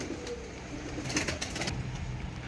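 Soft pigeon cooing, low and muffled, repeating a few times over a steady background hiss.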